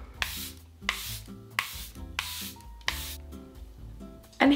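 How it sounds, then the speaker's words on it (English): Charlotte Tilbury Airbrush Flawless Setting Spray gets several quick, close pumps, about six short misty hisses in a steady rhythm over soft background music. "Charlotte Tilbury Airbrush Flawless Setting Spray."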